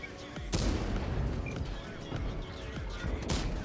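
Tank gun shells fired in World of Tanks by the AMX AC mle. 48, two sharp booming blasts a few seconds apart over steady battle rumble.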